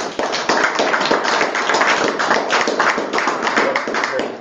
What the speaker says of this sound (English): let's give Officer Kirtland a round of applause